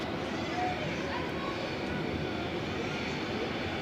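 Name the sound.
Embraer 190 jet aircraft taking off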